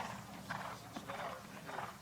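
Hooves of horses in a team mixed relay show jumping round at a modern pentathlon world championship, a few soft, moderately distant clip-clop thuds in an uneven rhythm under a faint murmur.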